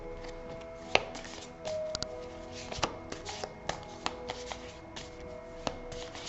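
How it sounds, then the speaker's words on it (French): Tarot cards shuffled and laid out on a table, soft continuous riffling broken by a string of sharp, close card taps and slaps at irregular intervals, with no talking. "Ok, je vais mettre 6 cartes."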